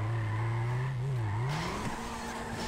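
A car drifts with sustained tire squeal and a high engine whine in GTA, wheeling through a Tokyo Drift–style slide, loud and continuous throughout.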